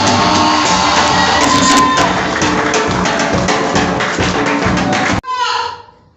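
A church congregation at a thanksgiving service cheers and shouts in acclaim, a loud, sustained crowd roar with voices over it that cuts off abruptly and rings out briefly in the room.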